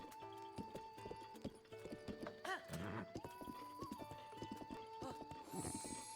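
A horse trots in the video game Zelda: Breath of the Wild, its hooves clip-clopping in a steady rhythm amid game music and a whinny, quiet and under brief talk.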